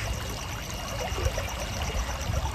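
Water pours out of an overflowing village reservoir in a steady, rushing stream, close and continuous, with no voices.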